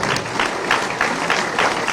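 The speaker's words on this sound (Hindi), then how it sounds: "एक बार खोले गए के लिए भी ताली बजा दो भाई" At a political Vijay Sankalp rally with Shivraj, a large crowd claps continuously, a thick, even roar of hands with slight surges in loudness.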